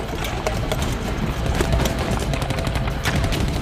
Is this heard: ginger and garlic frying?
no